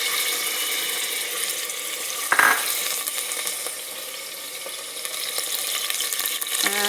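Garlic and cherry tomatoes sizzle in a hot pan with a steady, close frying hiss and a brief clatter partway through, no voices.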